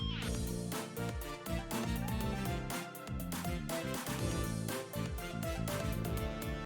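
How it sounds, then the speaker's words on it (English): Groovy dance track with a trumpet and electric piano lead over a driving beat, with a synth pad in the background, playing steadily and loud throughout with no talking. "I also brought that lead over to the trumpets and electric piano"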